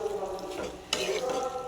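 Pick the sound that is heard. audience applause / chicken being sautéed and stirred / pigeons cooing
chicken being sautéed and stirred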